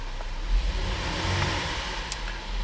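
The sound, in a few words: 2009 Buick Enclave CXL engine revving in park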